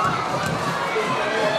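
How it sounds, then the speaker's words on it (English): An indoor wrestling event crowd cheers and shouts continuously, a dense wash of voices and children yelling, loud and steady. "Crowd trying to will Beach back into it, but he takes an atomic drop."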